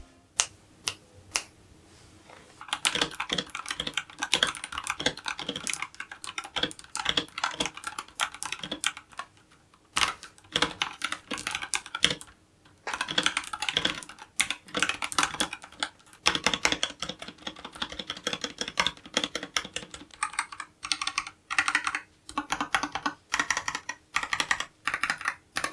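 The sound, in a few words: typing on Epomaker AK84S keyboard with red switches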